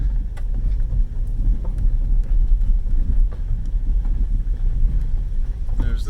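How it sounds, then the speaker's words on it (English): A rental car rolls slowly along a wide gravel road, its low engine rumble and tyre crunch steady and close, with wind buffeting the microphone throughout. "Can't go too fast in the rental car on this big gravel road."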